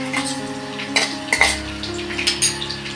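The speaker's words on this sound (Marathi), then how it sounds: "हे बघा, जिरं आणि मोहरी टाकलेली आहे।" Cumin and mustard seeds fry in hot oil in a pan with a soft continuous sizzle, broken by a few close metallic clinks of a utensil against the pan.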